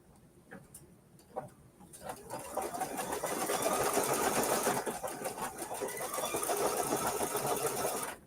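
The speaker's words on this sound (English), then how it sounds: "Let's do the blanket stitches to stitch those down." Embroidery machine sewing blanket stitches, a few sparse clicks at first, then a fast steady mechanical whirring and ticking that runs on loudly to the end.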